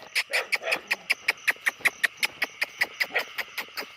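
A small dog barks rapidly and repeatedly, about twenty sharp yaps in a steady rhythm, close by.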